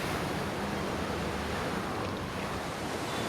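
Pacific Ocean surf breaks and churns on a Peruvian beach of rounded pebbles, a steady, loud roar of waves with gusting wind buffeting the microphone throughout.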